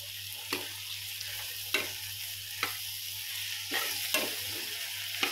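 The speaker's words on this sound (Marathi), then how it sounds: "मसाला आपल्याला व्यवस्थित शिजवून घ्यायचा आहे. 2 मिनटं तसंच परतवून त्याला हलवत राहायचं आहे." Masala frying in a pan, the soft sizzle under regular stirring strokes, a scrape roughly every second, close and fairly quiet, without any talk.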